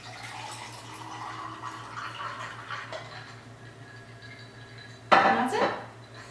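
Lemonade poured into a glass full of ice, heard as a sudden close burst of liquid and clinking ice near the end, after a stretch of quiet kitchen background.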